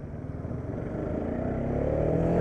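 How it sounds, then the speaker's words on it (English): Bajaj Dominar 400 motorcycle exhaust, a steady low throbbing drone that builds slightly in loudness toward the end, heard alone without talk. "And the exhaust sounds very much like a Pulsar."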